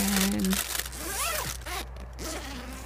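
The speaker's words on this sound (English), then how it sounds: "Okay, so unzipping the outer door." A tent's outer door zipper is pulled open up close at a camp in Antarctica, in a few quick rasping strokes, with a faint voice and steady background hum.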